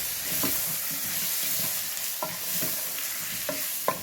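Turmeric, coriander, Kashmiri chili powder and garam masala stirred in a pot for pressure cooker egg biryani, a steady low sizzle with a spoon scraping and tapping the pot in short irregular strokes, close, without talk.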